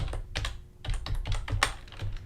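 Fingers typing on a computer keyboard, a quick, close run of soft clicking keystrokes with uneven rhythm and no talking.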